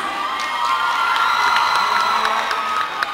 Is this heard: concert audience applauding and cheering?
yes